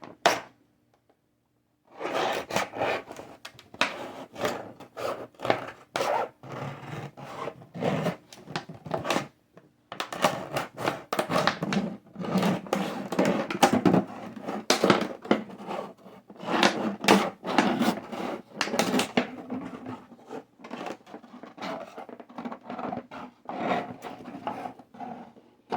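A plastic bottle is sawn and cut open to make a minnow trap, with long stretches of close, rough rasping and scraping in uneven strokes and brief pauses, and no talk.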